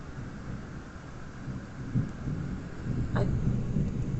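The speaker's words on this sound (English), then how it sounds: "You hardly ever get a morning where it's thundering." Low, rumbling thunder rolls beneath steady rain, swelling louder partway through and holding strong to the end.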